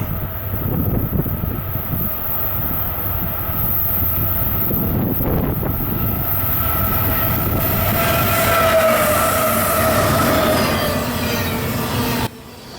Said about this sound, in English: This is CSX Island 58, and he would be flying by.